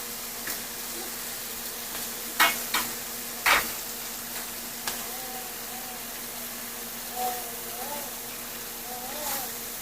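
Beef pieces frying in a little fat for a stir-fry, a soft steady sizzle with a few sharp clatters of stirring utensils against the pan and faint voice-like murmurs, close and moderate in level.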